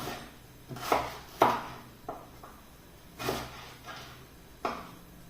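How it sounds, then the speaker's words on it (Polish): An onion is sliced into thin half-moon strips on a cutting board, giving about six separate knife chops at uneven intervals, sharp and close, with quiet pauses between them. "Zaczynam od pokrojenia cebuli. Cebulę w piórkach."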